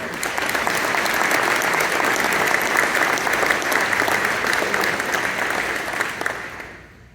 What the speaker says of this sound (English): let's make sure we give them a round of applause as well.